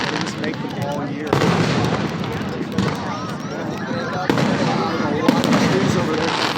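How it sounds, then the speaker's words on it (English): Independence Day fireworks bursting in a dense, continuous barrage of crackles and booms, with sharper blasts near the 1.3, 4.3 and 5.3 second marks, and voices faintly audible beneath. "these fireworks have been sitting in storage for like months"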